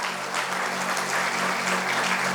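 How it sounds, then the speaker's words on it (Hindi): Audience applause at a Hindi Christian worship gathering, a steady wash of many hands clapping throughout, sustained and fairly loud with a faint low hum beneath and no speech. "ताली बजा के प्रभु को धन्यवाद दें।"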